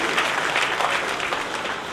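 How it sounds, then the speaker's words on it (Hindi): A crowd claps at a religious Bhagwat gathering at a cow shelter, a steady, moderately loud wash of applause lasting about two seconds, with no voice over it. "जोरदार तालियां"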